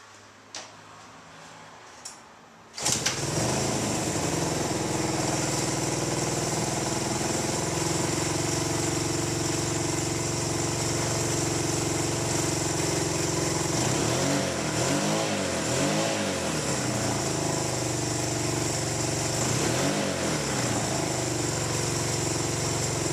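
A Honda CB200 motorcycle engine catches on a cold start after a few faint clicks, then idles with a steady loud chug, broken by a few throttle blips that rise and fall.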